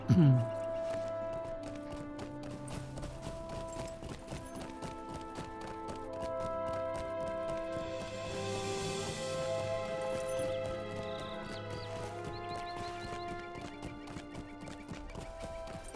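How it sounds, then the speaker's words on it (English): Horse hooves clip-clop at a steady pace while riding in Lord of the Rings Online, heard under sustained game music with a brief neigh at the start. "let's get on a horse, of course."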